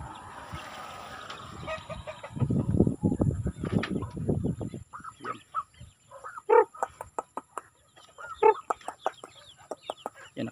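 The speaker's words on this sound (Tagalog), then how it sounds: "Nakauwi na yung mga manok natin." Domestic chickens back home in a rural yard cluck in a series of short, close calls that come in bursts over steady rustling, with a louder stretch of movement early on and no one talking.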